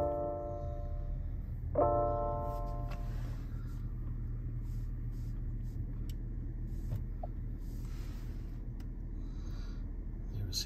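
A 2023 Porsche Cayenne engine cranks briefly and settles into a low, steady idle rumble, heard from inside the cabin with faint speech.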